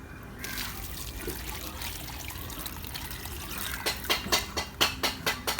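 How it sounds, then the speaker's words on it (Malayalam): Water trickles and pours steadily from a can onto a freshly planted sweet basil pot in a morning garden, a continuous near splashing that turns into a few louder, choppier gushes toward the end. "കുറച്ച് വെള്ളം ഒഴിച്ചു കൊടുക്കാം"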